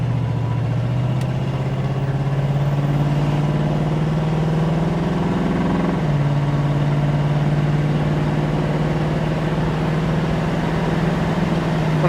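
A 1969 Mercury Cougar pulls through its gears, the engine note climbing steadily, dropping sharply at a shift, then climbing again with a loud, close, continuous drone and no talk.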